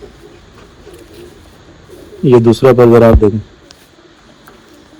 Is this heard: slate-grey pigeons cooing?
yes